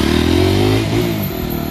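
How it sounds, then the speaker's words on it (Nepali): A motorcycle engine runs loud and close, idling with a steady rumble that dips briefly and then picks up again, heard alone with no voices. "बाइक स्टार्ट गरेर टल्दियो"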